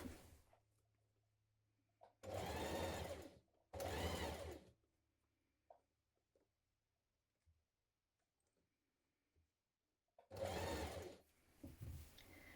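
A sewing machine stitches across the top of a child's dungaree pocket in two close, loud bursts, then falls quiet with a few small clicks before a third run of stitching near the end.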